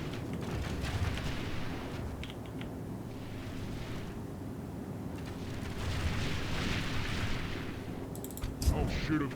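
Dwarf units in a Call of Warhammer battle fire a steady, distant crackle of gunshots that rises near the end, with someone speaking over it.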